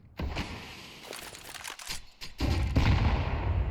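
Gunfire in Counter-Strike on the Vertigo map during a competitive match, a cluster of sharp shots and bursts followed by a louder, denser stretch of fire and impacts, close and without talk.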